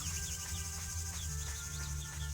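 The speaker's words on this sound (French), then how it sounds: "C'est qui a mis les grillons dans ce jeu?" Crickets chirp in the video game ArcheAge, a steady stream of short high trills over a constant low ambient drone, with no voices.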